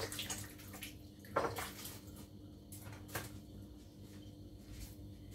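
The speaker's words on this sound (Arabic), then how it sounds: "نغسل يدي ونرجع معكم" Tap water runs at a sink while hands are washed during home bread making, a faint steady splashing with a few clinks and knocks, close and quiet with no talk.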